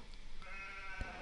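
A single sheep gives a short, fairly faint bleat over a low background hum in a summer farm setting.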